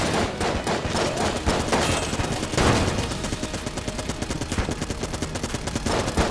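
Marine sidearm gunfire in Enter the Gungeon rattles in rapid, evenly spaced pops over busy game music and effects, loud and sustained across the whole stretch.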